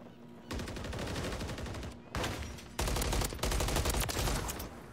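Rapid automatic gunfire in a Call of Duty MW3 ranked match, with several loud bursts separated by brief gaps and the rattling shots carrying on to the end.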